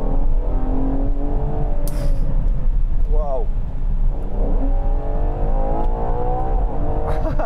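A powerful car engine in an SUV-style body revs and roars continuously close by, rising and falling as it accelerates. Someone speaks briefly over the steady engine noise.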